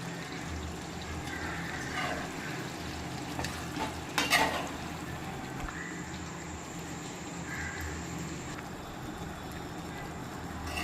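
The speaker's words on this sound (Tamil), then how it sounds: "இப்போ நம்ம எடுத்து வச்சிருக்கிற மிளகு தூளை இதை ஆட் பண்ணி கிளறி விட்டுக்கலாம்" Chicken frying in a pan as pepper powder is stirred in: a continuous close sizzle with scraping stirring strokes and a few sharper clatters partway through.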